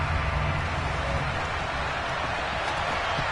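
Rain pouring down steadily in wet conditions during a football game, a dense constant hiss of falling water with no talk.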